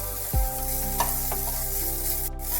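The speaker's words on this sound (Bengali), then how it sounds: "আর একটু নাড়িয়ে চাড়িয়ে নিয়ে" Chicken pieces sizzle in a pan with butter while a utensil stirs them, a scrape at the start followed by steady frying hiss and a few soft knocks, close and clear.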